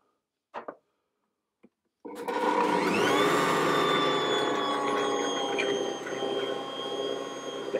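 An Ankarsrum stand mixer whirs on after a couple of light clicks, spinning steadily as it mixes focaccia dough ingredients in the bowl, loud and close for several seconds.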